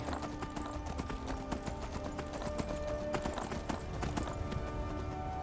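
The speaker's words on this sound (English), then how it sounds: "I've got my trusty horse." A horse in Skyrim trots with a steady, rapid clip-clop of hooves, close and continuous, over a soft background.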